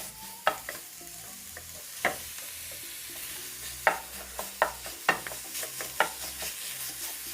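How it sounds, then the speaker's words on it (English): Minced beef frying in a pan while being broken apart with a utensil: a soft, even sizzle punctuated by a series of sharp scraping knocks at irregular intervals, nearby and free of talk. "begin by adding a small bit of minced meat. Just breaking it."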